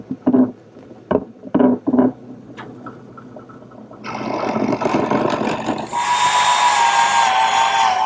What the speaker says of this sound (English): These holes that I drill in the corners of the tray frame for the carriage bolts that are going to hold it all together.